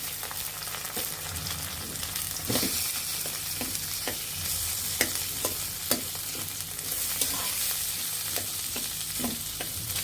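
Potatoes fry in a pan with cinnamon and cardamom for a chickpea dish, a steady sizzle running throughout with repeated soft stirring scrapes and clicks at close range.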